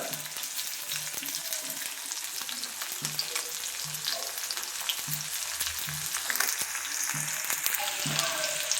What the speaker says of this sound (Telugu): ఉల్లిపాయలు అయిన తర్వాత బాగా వేయించాలి, నూనెలోనే వేయించాలి బాగా